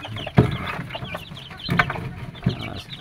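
Free-range village meat chickens cluck and peck eagerly while feeding, short close clucks and soft calls recurring in bursts over a low scratching background, with no talk.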